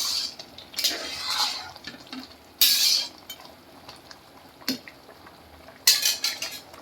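Metal spoon stirring matar bhat, peas rice, in a cooking pot, with several bright scraping clinks in separate bursts and quiet simmering between strokes, close and fairly loud.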